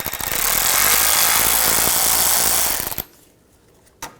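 A power tool drives a T20 socket to back out a screw on a 2004–2009 Audi A4 during AC condenser work, a loud continuous whirring burst for about three seconds that stops abruptly, followed by quiet and a brief click.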